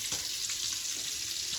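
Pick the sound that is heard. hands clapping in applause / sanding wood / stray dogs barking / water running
water running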